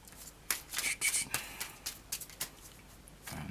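A deck of oracle cards is shuffled by hand, giving a string of short papery riffles and soft slaps in uneven bursts, close and fairly quiet, with no talking.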